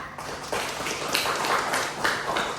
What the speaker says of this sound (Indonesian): Kita beri tepuk tangan dulu untuk Dinita.